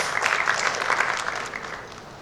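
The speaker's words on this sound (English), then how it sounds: "We're all giving right here a big round of applause for all our participants" An audience at a teen music launch event applauds its participants with dense, sustained clapping, loud and even throughout before easing slightly toward the end.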